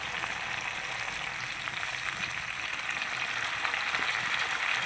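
Ginger and cumin paste thinned with water sizzles and fries in a pan with potatoes and onions, a steady, dense hiss holding evenly for the whole stretch with no talk.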